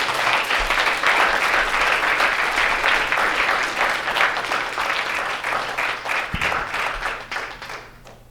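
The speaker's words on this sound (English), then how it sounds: "But Connie, I'm going to give you, let's give her a round of applause for being Connie." Sustained applause from a lecture audience, steady and fairly loud throughout, tapering off slightly toward the end.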